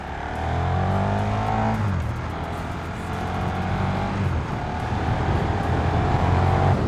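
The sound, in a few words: KTM 1390 Super Duke R EVO motorcycle accelerating onto motorway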